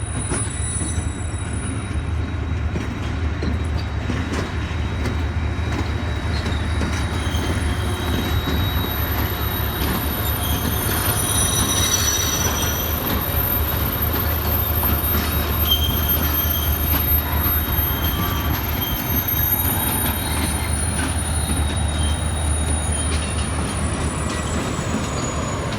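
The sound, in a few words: Millat Express train arriving at platform 3, Karachi Cantt station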